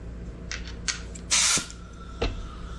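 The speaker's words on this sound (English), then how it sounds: "to blow all of the debris out of the hose from cutting it" Compressed air from an air hose blows debris out of a freshly cut AN-6 transmission cooler hose for a 1998 Jeep Cherokee XJ, with short hissing bursts followed by one longer loud blast and a final short puff.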